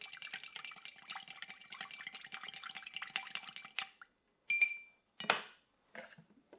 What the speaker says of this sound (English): I want to give this a good stir first because of the thickness of the cream of coconut